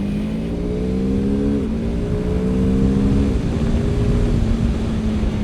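A BMW two-cylinder motorcycle engine, on the brand's cheapest bike, drones steadily and loudly, its pitch climbing gradually and then dropping twice as if through gear changes, with a rough, continuous exhaust tone and no talking.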